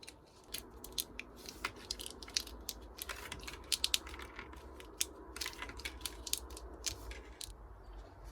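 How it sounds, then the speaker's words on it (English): A small wrench turning during a boat alternator swap, giving faint, irregular metallic clicks and ticks in a quiet space, with no voices. "So I'm using small wrench here."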